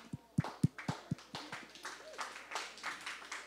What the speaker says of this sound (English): a big round of applause for Panther Productions, who've come to record and document all of the proceedings